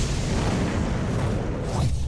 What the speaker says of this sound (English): When you come back into the house and turn the lights on, it sparks an explosion.